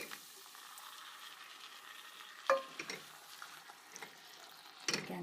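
A quiet, low sizzle comes from spiced chickpeas cooking in a pan as tomatoes go in. A couple of sharper clinks and scrapes of a utensil against the pan break through the gentle frying.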